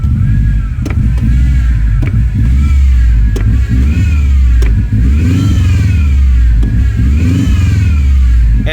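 A Subaru Forester Turbo with a mechanical throttle, suffering throttle hesitation, revs up and down in repeated loud surges close by, with sharp pops cracking from the exhaust between the revs.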